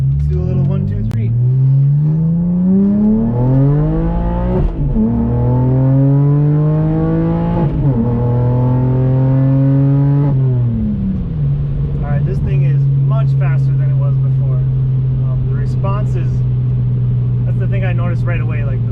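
A BMW 128i on its first drive in cold, low-grip conditions, the engine revving up through several rising pulls with gear changes before settling into a steady drone, loud and close inside the car.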